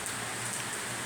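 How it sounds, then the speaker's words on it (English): Rain pouring down outside, an unbroken wash of raindrops hitting surfaces, close and steady for a brief moment, with no voices. "so many raindrops"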